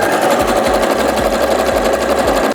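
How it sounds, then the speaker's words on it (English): A sewing machine stitches the side seams of a stretchy Elektra cosplay costume with a stretch stitch, its motor whirring steadily and loud at close range with a rapid needle chatter throughout. "Now it's time to sew down the sides."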